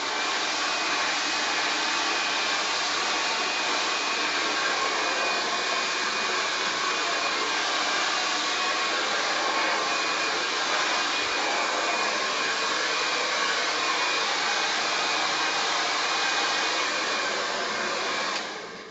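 A hair dryer blow-drying hair with a round brush blows with a constant, loud whooshing hum that holds steady the whole time, then cuts off at the very end.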